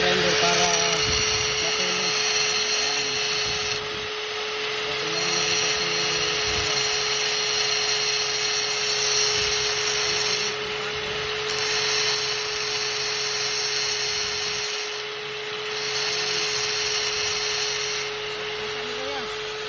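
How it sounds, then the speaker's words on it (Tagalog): An angle grinder cuts through steel for scaffolding at a third-floor overhead welding site, a loud steady high whine that dips briefly a few times. "So, para mas matuloy siya, ginagamitan natin ng grinder."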